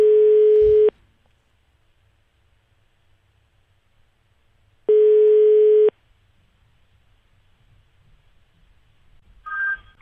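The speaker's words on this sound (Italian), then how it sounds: "la telefonata di Vendola a Gino Paoli" A steady telephone line tone on a radio prank call to an Italian talk show sounds in two one-second bursts about four seconds apart, with near silence between them and a brief higher tone at the end.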